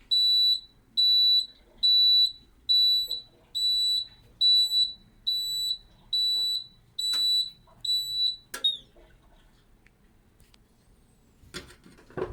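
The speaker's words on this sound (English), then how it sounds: "The buzzer sound is not noisy and much better than the other stock buzzer." Modified buzzer on an Amana washing machine sounding a series of about ten evenly spaced, clear electronic beeps, fairly close, followed by quiet and a few faint clicks.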